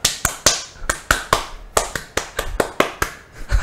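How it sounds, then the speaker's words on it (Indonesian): Rhythmic group clapping of the Indonesian scout clap (tepuk pramuka), about a dozen sharp claps in a patterned tempo with brief pauses, close and clear in a podcast studio. "Tepuk pramuka."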